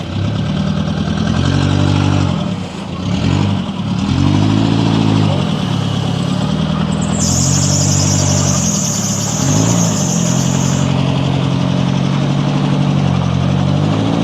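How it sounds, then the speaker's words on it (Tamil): A Nissan Datsun Sunny with a coil problem runs with its silencer muffler patched, the engine and exhaust giving a loud, close, throbbing drone that rises and falls in repeated revs, with a faint voice in the background. "சைலன்சர் மப்ளரை பட்டி வச்சுருக்காங்க சதுரமாக சத்தம் இருக்குங்க"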